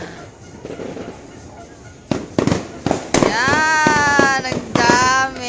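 New Year firecrackers crack in quick, loud bursts, then fireworks keep exploding while whistling rockets rise and fade in the background, with people talking faintly nearby.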